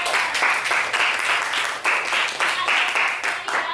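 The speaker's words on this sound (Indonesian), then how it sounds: "Tepuk tangan dulu buat kita." Applause from a class during a micro-teaching lesson, several pairs of hands clapping at close range in a few uneven bursts, with short pauses between the rounds.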